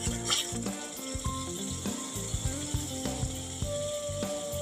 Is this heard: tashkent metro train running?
no